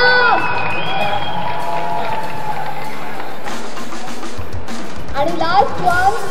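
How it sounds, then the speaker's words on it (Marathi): Audience at the Classmates film trailer launch cheering and shouting in a sustained, loud crowd roar with scattered whoops, mixed with voices and some tonal background sound. "जोरदार टाळ्या झाल्या पाहिजेत"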